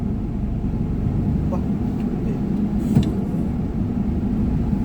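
A car pulling away in first gear as the clutch is released during a driving lesson, a steady low engine drone heard from inside the cabin, constant and fairly loud with no voices.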